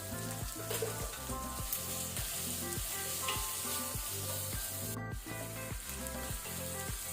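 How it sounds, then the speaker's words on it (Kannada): Onion frying in oil over a medium flame for breadfruit palya gives a dense, close sizzle, broken by steady, rhythmic stirring strokes roughly twice a second. No voice is heard. "ಈರುಳ್ಳಿ ಸ್ವಲ್ಪ ಫ್ರೈ ಮಾಡಿಕೊಂಡ್ರೆ ಸಾಕು ಮೀಡಿಯಂ ಫ್ಲೇಮಲ್ಲಿ."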